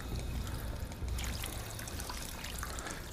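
Water runs from a sink in a vault in Fallout 4 as a steady, continuous pouring trickle, fairly loud and close, with no talk over it.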